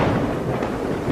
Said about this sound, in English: There is a lot of thunder.